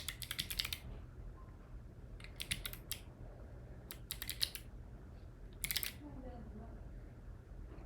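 Typing on a Voyager keyboard with a QWERTY layout: quick bursts of crisp key clicks separated by pauses, close and fairly quiet over a low steady hum.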